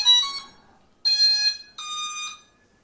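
Three bright electronic beeps in sequence from a Chasing M2 underwater ROV booting up, each a short tonal chime with pauses between, clear and close with no other sound.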